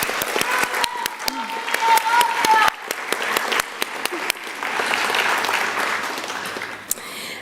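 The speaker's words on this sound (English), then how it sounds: "Let's give her a round of applause." Audience applause at a high school band concert, a dense patter of many hands clapping that fills the hall, with a few sharper individual claps standing out before it thins and fades away.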